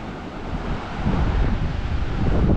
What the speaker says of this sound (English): You see the waves lashing up against the cliff over there.